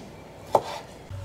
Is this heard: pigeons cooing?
no